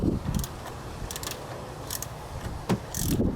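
Socket wrench ratcheting a stubborn bolt on the EGR valve of a 1997-2004 Ford F-150 4.6L, heard as a few short bursts of clicking spaced across a few seconds over low workshop noise.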